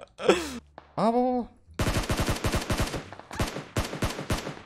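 Rapid automatic gunfire in PUBG Mobile, crisp loud bursts of many shots in quick succession, several strings separated by short pauses, with brief voices speaking at the start.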